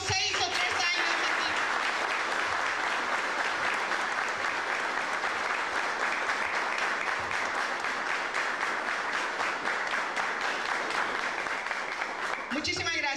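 Sustained applause from the audience at a school graduation and record-signing ceremony honouring the institution, dense and steady for about twelve seconds before fading, with voices emerging at the end.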